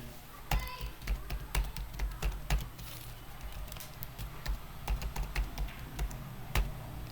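Rapid, irregular clicking of computer keyboard keys typing an email address while setting up an online account, close and fairly clear, with short bursts and brief pauses over a faint low hum.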